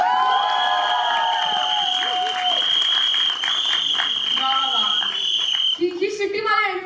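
Audience applause and cheering at a Marathi movie celebration event fill the room as a continuous clapping wash, with whoops and talking over it and a sustained whistle-like tone through most of it.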